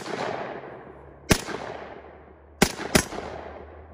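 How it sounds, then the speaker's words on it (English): A Taurus .454 Casull revolver fires three sharp, loud shots into a watermelon outdoors, one alone and then a close pair a moment apart, each cracking and echoing away over low background hiss. "So we're gonna try to shoot this thing and see what kind of damage it'll do."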